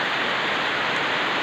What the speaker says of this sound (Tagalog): Lakas ang bagsak ng ulan.